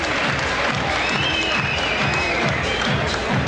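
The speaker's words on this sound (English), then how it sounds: "There's the standing ovation you talked about" A packed arena crowd at a kickboxing bout (Rony Sefo vs. Fadi Haddara, 2000) gives a standing ovation, with dense, steady applause and crowd roar running loud and unbroken throughout.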